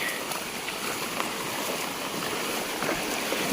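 Rain falls in a Konkan forest beside a stream, giving a continuous hiss of water that stays even and fairly close throughout the short stretch, with no voices.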